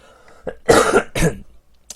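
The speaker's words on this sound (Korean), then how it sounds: "제가 볼 때는 기침이 계속 나와요" Two harsh, chesty coughs burst out close by in quick succession from someone lingering with a post-COVID cough, with a faint click near the end and otherwise quiet.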